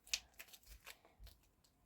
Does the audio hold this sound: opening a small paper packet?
yes